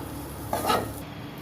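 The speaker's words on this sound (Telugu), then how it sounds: "ఇప్పుడు ఈ కొద్దిగా ఫ్రై చేస్తున్నాను" Bitter gourd pieces coated in spice powder fry in a pan, giving a faint sizzle and a brief scraping stir in the middle of a short moment.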